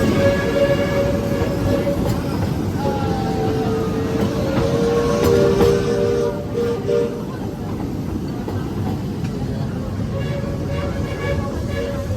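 A Walt Disney World Railroad train at Magic Kingdom rumbles and rattles steadily along the tracks, loud and close, with clattering metallic squeals and a continuous heavy roar.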